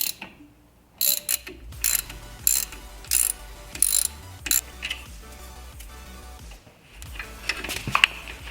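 Mechanical ratcheting clicks come in short bursts as a torque wrench tightens the center bolt on a brake caliper of a 392 Daytona Charger during a Powerstop Z26 pad install, with pauses between the close, sharp clicking runs.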